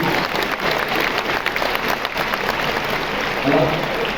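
Steady applause from a cinema audience at the Grand Rex fills the clip, a dense wash of clapping that holds even throughout and swells slightly near the end.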